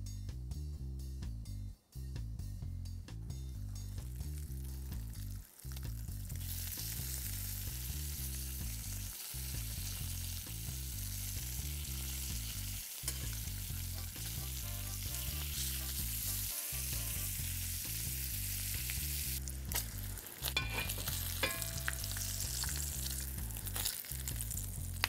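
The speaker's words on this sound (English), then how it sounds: "today I'm frying up some of our homemade bacon." Homemade bacon sizzles and crackles steadily in a hot wrought iron pan, close and continuous throughout, with a soft rhythmic background underneath.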